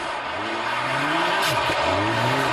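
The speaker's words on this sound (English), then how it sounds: "Feathering the throttle, fighting for grip." Rally car on a Monte Carlo stage with the driver feathering the throttle, engine note wavering up and down in quick surges, loud and close over constant road roar.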